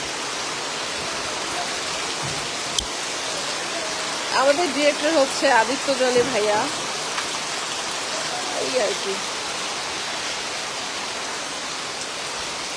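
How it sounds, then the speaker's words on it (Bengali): Heavy rain pours down in a dense, constant hiss that fills the background, while a person speaks briefly in the middle. "শুটিং করতে পারছি না, এত বৃষ্টি হচ্ছে"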